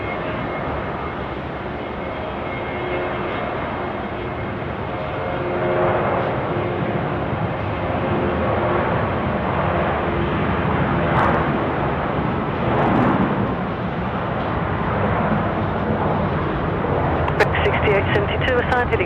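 A jet airliner, QJet flight 1535, rumbles on the runway at Sydney Airport at night with a steady, loud broadband roar that swells and fades slightly, with talk over it.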